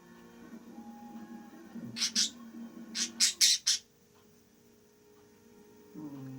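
A small budgerigar lets out a few sharp chirps, then a quick burst of four or five harsh squawks, close by over a faint steady hum.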